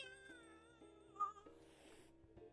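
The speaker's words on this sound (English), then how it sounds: "If I'm not mistaken, this is a local cat." A local cat meowing in the café game Coffee Talk 2, one short meow rising briefly over soft, mellow background music.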